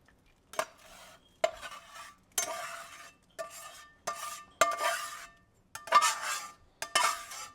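A cast iron skillet is tipped and scraped into a chicken pot pie mixture. Repeated metallic scrapes and clinks come in regular strokes about once a second, close and fairly loud, with a faint sizzle and no talking.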